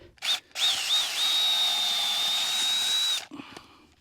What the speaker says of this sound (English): I love this auger.